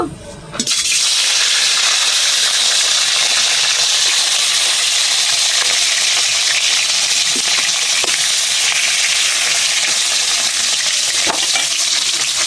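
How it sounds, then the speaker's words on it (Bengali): Fish heads from a rohu fish curry recipe frying in hot oil, a loud continuous sizzle and crackle that starts abruptly and holds steady with a few faint clinks, no talking. "আর প্রথমে মুড়োগুলো ভেজে নেব।"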